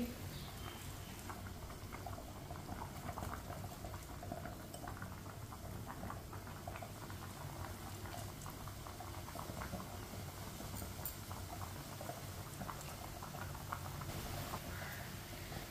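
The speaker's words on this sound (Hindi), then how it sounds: "पानी को अच्छी तरह बॉयल आ चुका है" Water for a chicken dish bubbles at a steady rolling boil in a pot, a continuous close patter and gurgle with no breaks from start to end.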